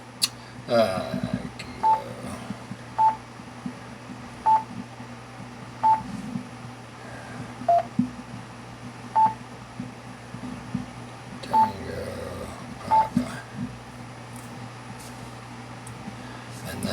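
Keypad tones from a Yaesu Fusion radio sound as a call sign is entered, about eight short evenly spaced beeps over roughly twelve seconds, with someone talking quietly between them.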